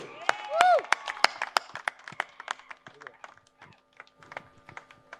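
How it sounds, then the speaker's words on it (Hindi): Scattered clapping from a crowd welcoming a guest on stage at a Celebrity Premier League closing ceremony in Rawalpindi, sharp individual claps that thin out over time, mixed with voices and a musical tone early on. "जोरदार तालियों से वेलकम करेंगे"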